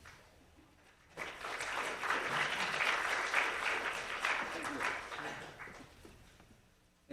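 Conference audience at a brain stimulation technology event in Hawaii breaks into warm applause for a speaker, a dense clatter of clapping that swells quickly, holds for several seconds and fades out.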